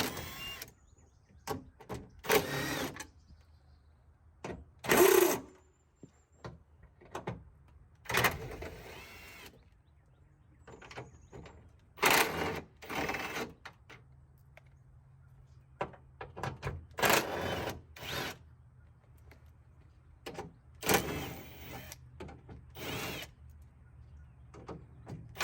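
Nuts and bolts being removed from a car's window regulator mount, heard as short sharp bursts of ratcheting and metallic clicking separated by quiet pauses, close and moderately loud.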